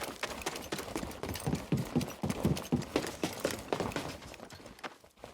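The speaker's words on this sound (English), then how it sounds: "if we walk between each different surface, you can listen to the different footstep sound effects each one makes." Footsteps cross several different surfaces in the video game Star Wars Jedi: Fallen Order. The steps fall rhythmically and clearly, some crunchy and some hard-edged, with a background hiss and no speech.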